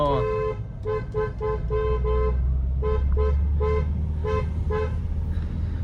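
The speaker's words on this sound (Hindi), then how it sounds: "हॉर्न" Several short horn toots in a row from a 2023 Hyundai Verna on a steep mountain road near Narkanda, some quick and some held, over a loud low engine rumble, with voices talking nearby.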